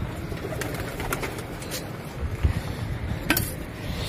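Pet pigeons peck at scattered grain, making soft, continuous pecking and shuffling sounds. Faint cooing and wing noise are mixed in, with a couple of brief sharper taps.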